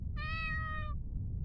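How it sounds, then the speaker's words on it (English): A cat in the video game Middens gives a single clear, drawn-out meow lasting under a second, standing alone over a low steady background hum. "Meow."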